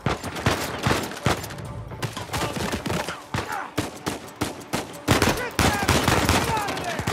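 Rapid gunfire bursts from an Uncharted 4 firefight in the highlands, sharp repeated shots and fusillades crackling densely across the clip, loud and close, with a voice breaking in briefly.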